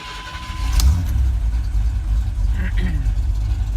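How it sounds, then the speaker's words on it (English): A 1985 Chevrolet C10 engine cranking over and firing, a loud close mechanical roar with a sharp clatter early on, running rough and steady for a few seconds. "it takes quite a bit of cranking to get the gas pumped up"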